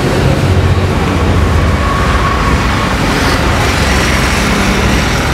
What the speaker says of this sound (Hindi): this Amritsar metro bus